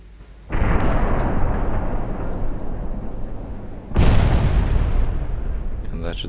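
Warship guns in Ultimate Admiral Dreadnoughts fire two loud booming salvos a few seconds apart, each a sharp blast followed by a long rumbling decay.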